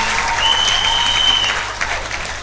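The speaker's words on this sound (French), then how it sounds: "Applaudissons pour Jésus." Church congregation applauding for Jesus, loud sustained clapping from a large crowd with a faint high tone running through part of it.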